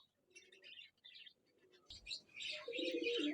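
Pigeons from a flying-breed pigeon club coo softly in short bursts, with faint chirps and some background activity building toward the end.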